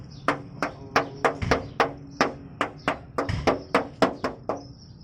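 Knuckles knock about fifteen times in a quick, uneven rhythm on the bare, undamped steel front fender of a Suzuki Khyber car. Each hit is close, loud and hollow, with a thin metallic ring, and no talk is heard.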